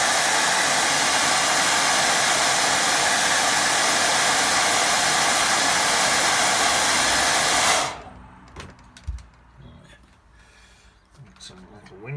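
A hair dryer roars steadily at close range, drying watercolour paint on a boat-and-sea painting, then switches off abruptly, leaving faint handling noises.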